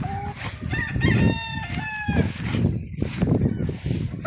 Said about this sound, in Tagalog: Mga manok natin.